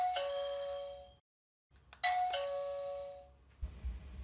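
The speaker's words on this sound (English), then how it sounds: "will now cause the panel to emit a doorbell sound when the button is pressed" Fortress alarm panel sounding a doorbell chime after its panic button is pressed: two clear electronic ding-dong tones with a short silent gap between, close and loud, followed by some faint handling noise.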